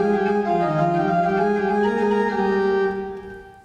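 A pipe organ plays a Bach fugue with an ascending figure at a university farewell performance. Sustained chords and an overlapping line rise slowly, rich and steady, before fading into the room.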